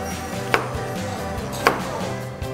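A knife chopping red and yellow bell pepper into thin strips on a wooden board, with two distinct sharp chops about a second apart and softer taps between them, close and clear with no voices.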